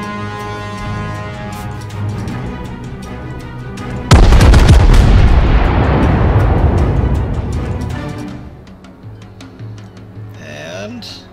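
Naval gunfire from warships in a video game: a tonal ship-engine drone is broken by one loud, close cannon blast that booms and rumbles for several seconds before fading back to the hum, with brief speech near the end.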